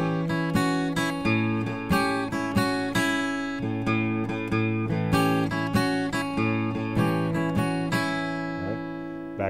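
An acoustic blues guitar plays a repeated bass note under a simple three-note melody, with clear plucked notes ringing in a steady rhythm and fading out at the end.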